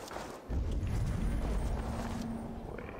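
Horse hooves clip-clopping in the video game Assassin's Creed Valhalla, a steady close run of hoof beats over a low rumble with no talking.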